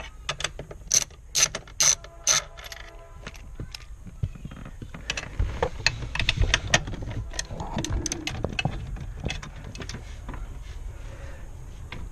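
Ratchet clicking in quick bursts as 13mm bolts holding a BMW E46 steering column to the dash structure are loosened, close and fairly loud, with metallic handling clatter between the runs.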